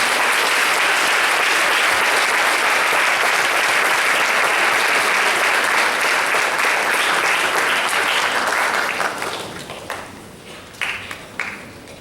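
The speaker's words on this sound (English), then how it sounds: "Let's give them a round of applause." Audience at a patriotic rally applauds military veterans with dense, loud, sustained clapping that thins out and fades into scattered individual claps near the end.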